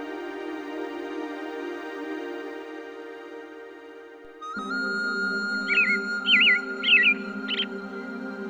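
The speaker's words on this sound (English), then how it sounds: "Oh yeah, that's a beautiful red robin." A red robin sings alone, a series of short bright chirping phrases that rise out of a steady tonal background and hold at moderate loudness for several seconds.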